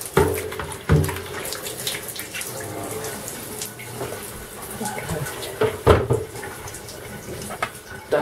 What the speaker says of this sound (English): Turn the tap on for a minute.